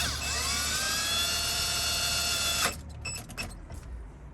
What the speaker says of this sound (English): we're going to screw it right back in place